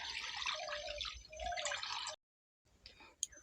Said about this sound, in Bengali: লোহার কড়া একটা বসিয়ে দিয়েছি ওই কড়ার মধ্যে জল দিয়ে দিচ্ছি